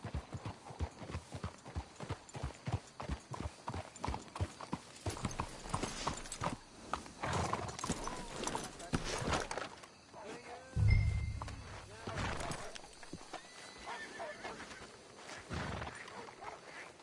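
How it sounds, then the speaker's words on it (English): Horse hooves clip-clop in a steady trotting rhythm, with a snort and whinny partway through, over a busy outdoor ambience. "Let's hitch the horses up ahead."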